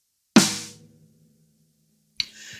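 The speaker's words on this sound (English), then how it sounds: "We have a snare drum, which of course we all know what it sounds like this" A snare drum struck twice, a sharp crack that rings and fades before a second hit comes after a short pause, loud and close, with no voices.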